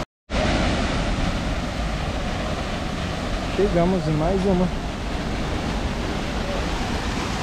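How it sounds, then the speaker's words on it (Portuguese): Steady roaring rush of a nearby waterfall at Cachoeiras do Arco-íris, Lima Duarte, Brazil, fills the whole clip, with a person speaking briefly over the constant broadband noise. "tem o barulho da cachoeira"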